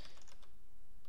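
Quick burst of typing on a computer keyboard while entering a git command, a few close, crisp key clicks at a soft level with no speech.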